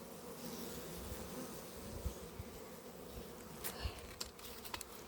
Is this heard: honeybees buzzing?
yes